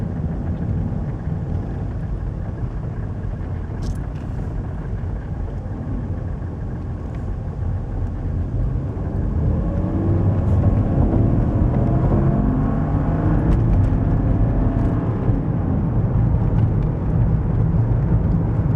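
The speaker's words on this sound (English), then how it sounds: "See that nice steady takeoff then?" A Mercedes W124 300TD multivalve straight-six diesel with an automatic gearbox pulls away smoothly, its engine note building from a low idle-like rumble into a fuller, steady drone partway through, heard from inside the car with no talking.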